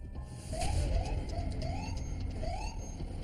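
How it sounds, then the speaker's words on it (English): Rising electronic police car siren whoops repeat several times at moderate distance over a steady low rumble of background noise. "Each car blasts its siren, on cue"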